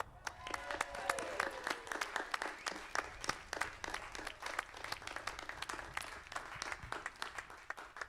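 Steady applause from a concert audience and big band after a live performance, continuous and fairly distant, with scattered sharp claps standing out from the wash throughout.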